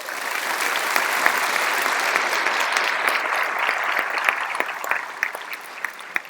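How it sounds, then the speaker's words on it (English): Graduation audience at a high school ceremony applauding steadily, a dense, sustained wash of clapping from many hands that carries through the whole stretch, with scattered louder claps standing out near the end. "Let's give them a round of applause."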